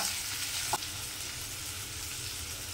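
Red lentils with raw papaya fry in a pan, a close, steady sizzle with one brief stirring scrape, no talk.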